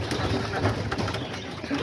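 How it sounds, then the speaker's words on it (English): Pigeons, grizzle birds kept in an aviary cage, coo softly in a low, continuous murmur close by, with steady background noise and no talking. "these pigeons right here"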